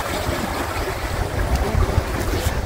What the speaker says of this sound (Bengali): প্রচণ্ড স্রোত কিন্তু বয়ে যাচ্ছে।